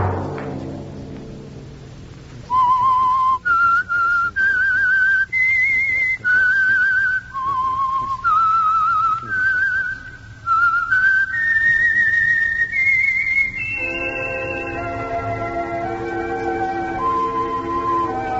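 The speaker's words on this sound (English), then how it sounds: "Let that whistle be your signal for the Signal Oil program, The Whistler" A whistled theme melody for The Whistler radio mystery show rises and falls through a series of clear sustained notes. The tune runs for well over ten seconds and ends on softer, lower held tones.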